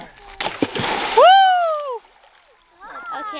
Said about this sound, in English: Splash contest.